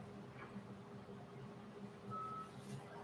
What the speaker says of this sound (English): that little alarm telling someone to do something, and they're ignoring it